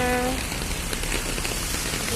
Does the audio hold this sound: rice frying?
no